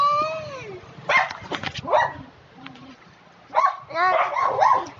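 Pet dogs bark and yip in several sharp bursts, with whining, high-pitched cries between them, close and fairly loud.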